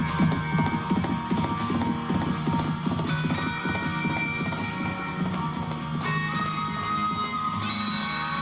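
A bolting horse's hooves clip-clop in a fast, steady rhythm over a dense, continuous rumble, loud and close throughout.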